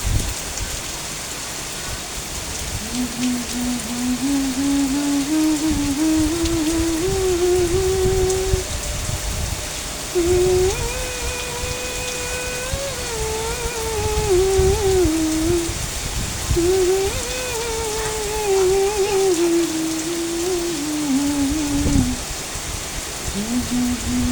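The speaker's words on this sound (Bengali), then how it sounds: "অনেক জোরে বৃষ্টি আসছে।" Heavy rain pours down in a dense, steady roar throughout, loud and close, while a wavering melodic tone drifts faintly over the downpour.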